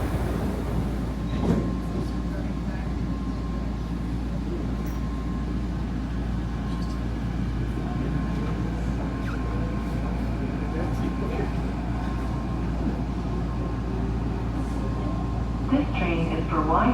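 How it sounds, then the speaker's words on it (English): Riding inside a crowded SkyTrain metro train in Vancouver heading to YVR Airport: a constant, loud rolling rumble with a low hum and faint rail clatter, with voices mixed in. "This train is for YVR Airport."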